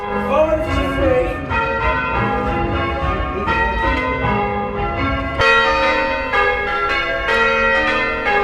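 Church bells peal loudly and continuously from the tower, overlapping tones ringing out in a steady rhythm with no voices.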